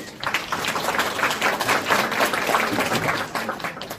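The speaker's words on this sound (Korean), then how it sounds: "교수님께 큰 박수 부탁드립니다." An audience at a food and drug safety forum in a Seoul conference hall applauds a university professor, a thick, continuous burst of clapping that holds steady for several seconds.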